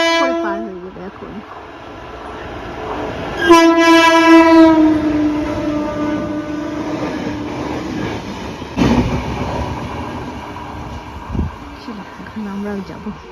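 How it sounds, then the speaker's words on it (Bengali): A train pulls out of a fog-covered station near Deotala on a cold winter day, sounding a long, loud horn blast with a rumbling wagon roll beneath it, while people talk nearby. "এই ট্রেনটা যাবে, ছাড়বে"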